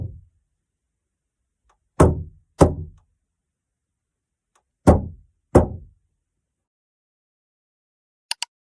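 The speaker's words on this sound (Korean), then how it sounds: "차 문을 손으로 때리고 하는 것도 사실 하다 보면 좀 아프고" A bare hand slaps a car door as a foley effect, making heavy, close thumps in two pairs with silence between them, followed by a tiny double tap at the end.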